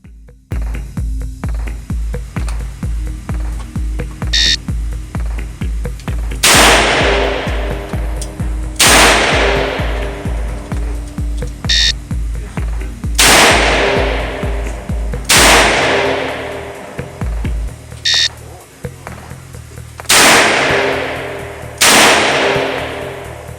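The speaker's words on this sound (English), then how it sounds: "On command, fire 2 rounds in 3 seconds, then load 6 rounds and assume the ready position." Colt MK V Trooper revolver fired at an outdoor shooting range in a qualification course: loud, sharp single shots and pairs spaced a few seconds apart, each ringing out with a brief echo, with faint handling noise between strings.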